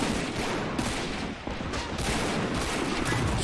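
Artillery and gunfire in the Great Plastic War mod for Army Men, a trench defence battle, roar in a continuous loud barrage of overlapping shots and blasts with no break.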